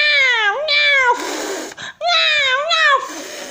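A voice imitates a cat meowing during a children's story about a mouse and a cat: two drawn-out, wavering meows separated by a breathy pause, loud and close.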